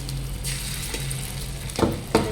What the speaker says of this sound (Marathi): अगदी कमी तेलात मस्तपैकी छान टिक्का तयार होता